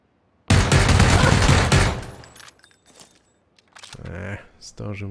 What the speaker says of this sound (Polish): Z tamtego okna chyba strzela, co?